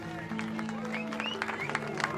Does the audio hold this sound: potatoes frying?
no